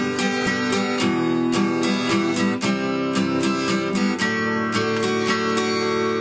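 Acoustic guitar strumming a syncopated eighth-note pattern, quick bright strokes in a steady repeating rhythm, close and alone without any voice.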